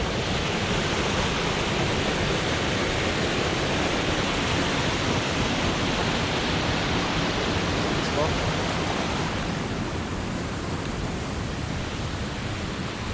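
A waterfall in rainy Highland weather beside a birch forest makes a dense, unbroken rushing roar that stays loud and steady throughout, with no voices over it.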